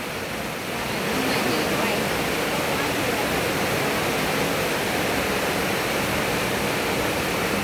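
Heavy rain falls without pause, a dense, even roar of hissing drops that swells slightly in the first second and then holds steady and loud.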